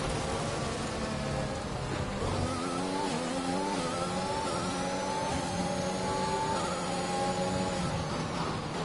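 McLaren Formula 1 car engine from the F1 2021 racing game, a steady high-pitched whine with rising and falling revs, heard continuously over a rain-like hiss of track spray.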